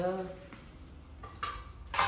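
Kitchen utensils and pots clink and clatter briefly at close range, with a few sharp metallic knocks spread over a couple of seconds.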